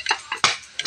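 Ham frying in a pan gives a close, crackling sizzle broken by a few short scraping or stirring clinks in under a second.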